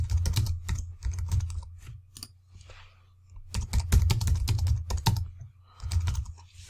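Bursts of rapid computer keyboard typing while a blog post is written, close and clear, with short pauses between runs of keystrokes and no talking.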